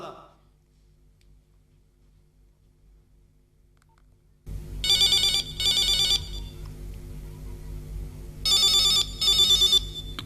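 Telephone ring tone on a call to a mother, following a quiet stretch with a faint clicking, then two pairs of loud close electronic ring bursts with a pause between them.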